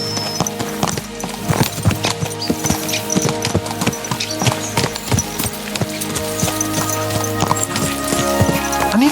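Horses gallop in Kingdom Come Deliverance II, a steady loud clip-clop of hooves throughout with an occasional whinny and creaks of tack.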